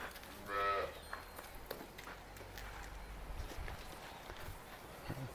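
A single low cow moo sounds near the start on a dairy farm, followed by quiet rustling farmyard background with scattered soft knocks and movement.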